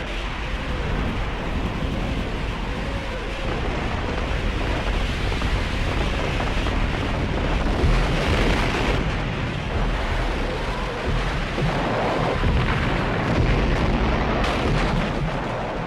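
Soviet multiple rocket launchers fire a massive artillery barrage at Stalingrad, a continuous dense roar of blasts and rumbling that fills the whole stretch with no voices.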